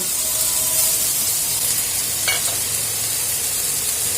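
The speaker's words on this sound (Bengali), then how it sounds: "এখন কাটলে বিচিগুলা ঢেলে দেব। পেঁয়াজ আর রসুন দিয়ে দেব" Beans fry in a pan with onion and garlic, making a continuous close sizzle with a bright hiss that stays steady throughout, broken briefly by a soft stir or clink.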